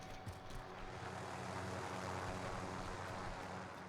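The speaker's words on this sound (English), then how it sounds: "Helicopter. Another helicopter." A video game helicopter drones steadily with a low rotor and engine hum, quiet and continuous throughout, with no talking.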